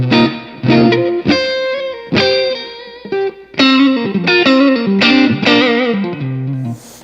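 Electric guitar played through a Komet K.O.D.A. overdrive amplifier pedal rings out in loud, driven chords and strummed phrases with short breaks between them, and no voices are heard.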